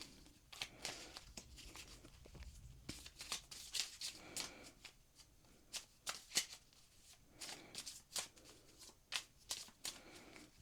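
A deck of prompt cards being shuffled at a desk, a quiet papery riffling in irregular bursts, fairly close and with no one talking.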